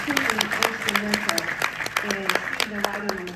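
A conference audience claps in a steady round of applause while a voice speaks over it, the clapping sustained and close throughout the short stretch.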